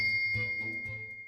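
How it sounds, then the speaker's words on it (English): A pulled bell cord sets off a bell in a video game, giving a bright sustained ding whose ringing tone holds steady across the clip over soft low rumbles. "Yes, it's a bell cord."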